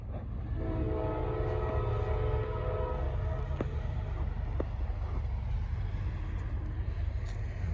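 Norfolk Southern northbound freight 154 rumbling past close by on the Charlotte District, a steady heavy roar of rail cars with low engine drone, a couple of sharp clanks, and no talk.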